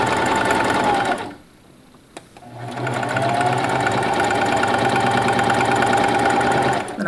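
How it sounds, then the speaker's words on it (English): A sewing machine running a straight stitch, loud and close with a fast rhythmic whir, pausing briefly near the start with a single click before resuming steadily. "So we're just doing a straight stitch and we're going really close to the edges."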